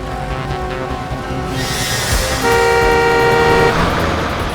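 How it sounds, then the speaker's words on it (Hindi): A car approaching along a road sounds its horn, with a steady, loud honk rising over the engine and road rumble, close by. "देखना जरा कोई गाड़ी आ रही है क्या?"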